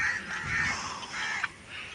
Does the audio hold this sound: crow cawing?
yes